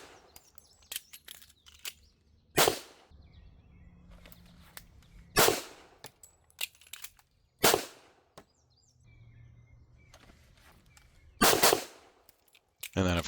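A Ruger SR1911 pistol with commemorative engraving fires about five loud, sharp shots spaced a couple of seconds apart outdoors, some shots closely paired, with birds chirping faintly in the quiet between.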